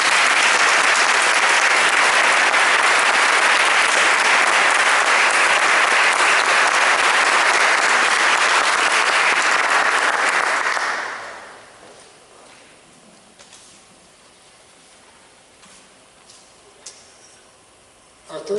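Audience applause for a scholarship recipient at a 2015 scholarship event: sustained, loud crowd clapping for about eleven seconds that then fades quickly into a quiet room with faint shuffling.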